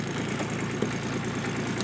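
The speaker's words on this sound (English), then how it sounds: "Good running working little tractor." A 2001 Kubota B7500 compact tractor's small diesel engine idles steadily with a low, even chugging rumble, close by and continuous.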